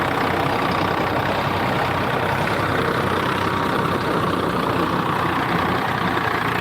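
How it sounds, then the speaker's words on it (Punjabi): A tractor engine drives a rotavator through an orange orchard, a loud, steady low diesel rumble and drone that runs without a break and stays close. "ਰੋਟਾਵੇਟਰ ਦਾ ਜ਼ੋਰ ਬਹੁਤ ਲਵਾ ਰਿਹਾ ਟਰੈਕਟਰ ਦਾ"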